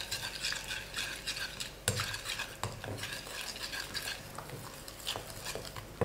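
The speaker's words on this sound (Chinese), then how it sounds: "边倒边搅" Egg, spinach juice and flour whisked into a smooth batter for an egg pancake, with irregular close scraping and tapping of utensil against bowl, one sharper knock partway through.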